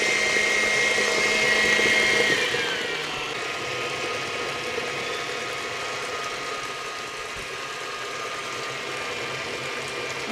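Electric mixer whipping cream into butter, a steady close motor whir that drops to a lower, duller drone after a brief speed change, with soft sloshing under it.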